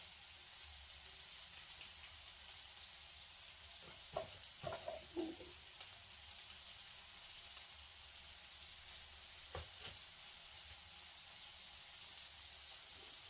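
Cheesy potato patties fry in a pan with a soft, steady sizzle, quiet and continuous, broken by a few brief clinks and taps around the middle.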